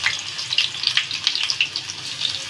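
Chopped garlic frying in hot oil in a pan, a steady close crackling sizzle with bright spitting pops throughout.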